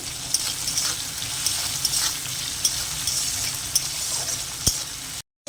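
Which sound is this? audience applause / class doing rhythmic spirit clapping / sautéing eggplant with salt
sautéing eggplant with salt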